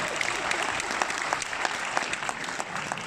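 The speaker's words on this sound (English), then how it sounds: "A huge round of applause to everybody" Convention audience at Budapest Comic Con applauding after a Christopher Judge interview, a dense, steady wash of many hands clapping at once, loud and close, with a faint voice nearby.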